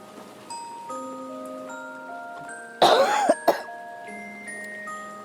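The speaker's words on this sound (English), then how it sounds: "Swear the cough wasn't that bad yesterday." A person recovering from illness lets out a harsh cough followed by a second shorter one, loud and close, over a quiet background of sustained musical tones.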